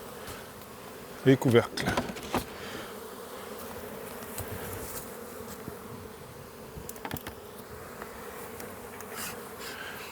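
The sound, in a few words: bees buzzing around a nucleus hive during inspection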